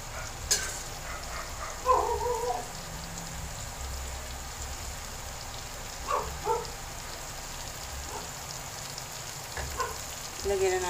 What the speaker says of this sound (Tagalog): Igisa-gisa natin yun.